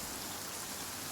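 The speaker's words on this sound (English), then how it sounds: "Yeah, let's get out of this rain." Steady, even rainfall in the video game Genshin Impact, heard as a dense hiss that continues without a break through the whole short stretch.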